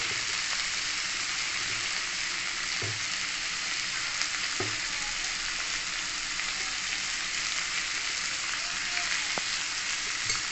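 Potatoes, yardlong beans and tomatoes fry in a pan with a steady, even sizzle and a few faint stirring clicks, heard up close with no talk.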